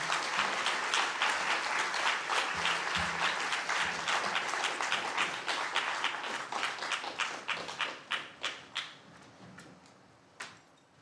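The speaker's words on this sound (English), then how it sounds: "give Lisanne a massive round of applause" An awards ceremony audience applauds with dense, sustained clapping that thins into scattered individual claps and a last few isolated ones near the end.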